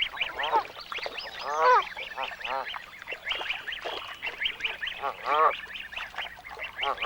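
Canada geese with day-old goslings honk and call repeatedly while feeding on water, a busy overlapping chorus of nasal honks and higher peeps, close and fairly loud with no talking.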